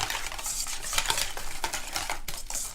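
A sauce of chopped shallots, herbs and capers being stirred close up, with steady scraping and clinking of a utensil against the pan and a light sizzle underneath.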